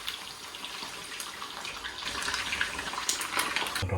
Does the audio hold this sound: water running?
yes